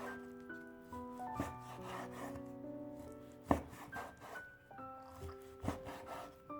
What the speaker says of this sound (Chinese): 下面准备1块五花肉，给它切成薄片，尽量切薄一些